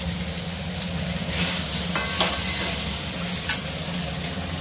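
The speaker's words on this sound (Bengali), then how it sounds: "আর এখানে দেখো টমেটো, কাঁচা টমেটো, আলু ভাজা হচ্ছে" Potatoes and raw tomato frying in oil in a wok, a close, loud sizzle with a few sharp spatters and a scrape of stirring, no talk.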